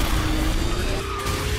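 Kart tires skid during a drift in the KartRider racing game, a steady hissing scrape over engine drone lasting under two seconds, close and fairly loud with no talk.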